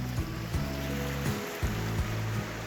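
A small creek runs through its bed after a flash flood, giving a steady close rushing and trickling wash with low rumbling underneath and no voices.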